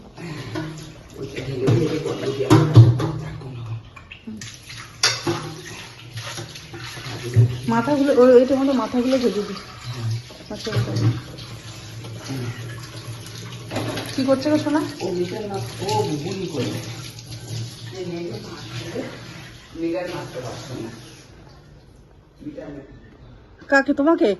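Tap water runs steadily while fish is washed in a home kitchen, a moderate splashing hiss that carries on beneath nearly constant conversation.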